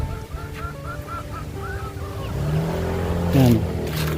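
Ducks at a pen give a series of nasal, honking quacks nearby, with a vehicle engine rising beneath them toward the end.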